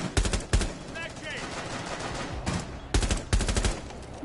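Rapid video-game gunfire, bursts of automatic shots and sharp single blasts, loud and close, rattling across the clip with players talking over it.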